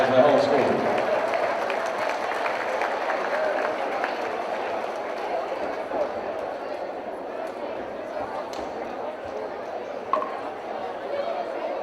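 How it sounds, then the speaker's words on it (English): Crowd applause and cheering in a school gym for the principal at the 2013 boys' county basketball final of the Marshall County Basketball Classic, a loud wash of clapping and crowd noise that starts strong and tapers slowly. "a big round of applause for Mr. Stacy Anderson, the principal of DAR"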